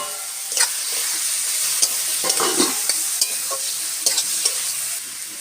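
Bottle gourd is stirred and fried in a pan, a bright continuous sizzle punctuated by repeated scraping clacks of the spatula at an uneven rhythm.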